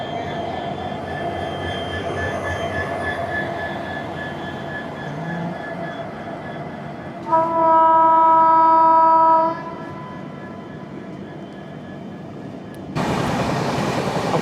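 Kerala Express train rolling along with a steady rumble and rattle while another train, a railway electrification vehicle, passes alongside, bringing a brief tonal horn-like whine in the middle and a harsh rush of noise near the end.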